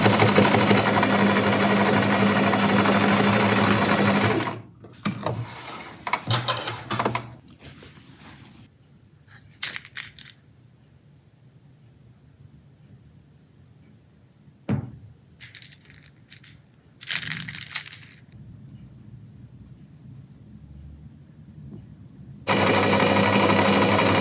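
A sewing machine stitching a pyjama runs in loud, continuous close bursts at the start and end, with quieter handling, fabric rustles and small clicks in the pause between.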